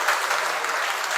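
A sermon audience breaks into brief applause, a dense crackling wash of many hands clapping at once, steady and fairly loud for about a second.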